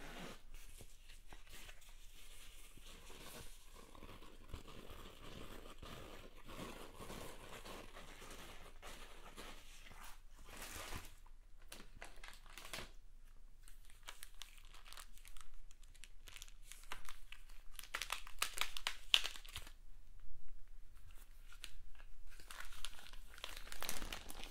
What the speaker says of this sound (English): Avon also sent me some black plastic bags, which might be for placing the customer's orders into